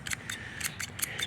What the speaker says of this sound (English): I'm gonna sit here and cut the grass a little bit